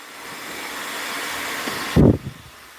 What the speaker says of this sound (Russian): Взяла прядь, направила фен и прокручиваю.